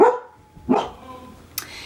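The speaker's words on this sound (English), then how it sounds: "getting her big dog bark" A big dog barks in three short, sharp bursts spaced across a quiet indoor setting, the first and second fuller and louder, the last a brief higher yip.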